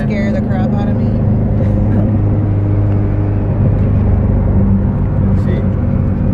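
A front-wheel-drive turbocharged Mitsubishi Eclipse 2G under way, heard from inside as a loud, steady engine and road rumble throughout, with voices over it.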